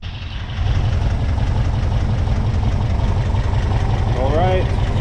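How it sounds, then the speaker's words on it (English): A freshly rebuilt Porsche 356SC flat-four engine catches and settles into a steady, loud, close idle with a throbbing low rumble, and a brief voice-like warble rises near the end. "That's the sound of a Porsche engine back to life."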